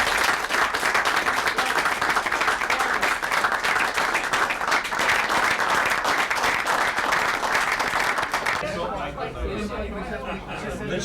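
An audience at the Maisonette bursts into dense, sustained applause mixed with crowd chatter, loud and steady for several seconds before fading into murmuring voices.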